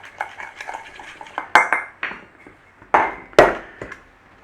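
Garlic salt and seasoning mixed in a bowl with a utensil, giving a run of close clinks and scrapes, a few sharper knocks standing out, with no talk over it.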